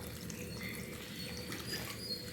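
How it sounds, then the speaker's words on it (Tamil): Water poured into a turkey berry tamarind gravy in a cooking pot, a continuous soft splashing pour with faint trickling, steady and close throughout. "தண்ணி ஊற்றிக்கலாம்."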